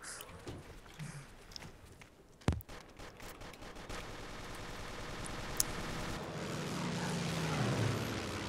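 Airstrike in the video game Ace of Spades: a sharp crack, then a swelling roar of aircraft and explosions building to a loud sustained rumble with scattered bangs.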